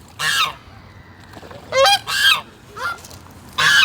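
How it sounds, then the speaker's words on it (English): Snow goose honking in a series of four loud, harsh calls separated by short pauses, close by over a quiet outdoor background, with no talking. "Are you a snow goose?"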